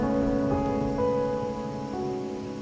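Steady rain falls in the video game Wuthering Waves, a dense, even patter that runs without a break and sits under soft background music.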